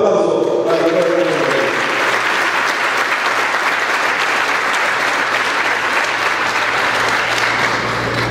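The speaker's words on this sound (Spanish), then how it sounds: "Un aplauso para el doctor." Sustained crowd applause at a political party's study-circle graduation ceremony in El Salvador, dense and loud, rising right after a brief voice at the start and holding steadily throughout.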